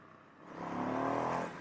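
An FTR 1200 S motorcycle in second gear, sport mode, swells from a low idle-like rumble into a rising engine roar, building and holding for about a second before easing slightly.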